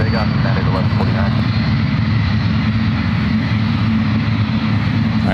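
Jet airliners, including a Boeing 777 and an Emirates jet, taxi and take off at San Francisco airport, a loud continuous low engine roar filling the whole stretch with a steady rumble and no pauses.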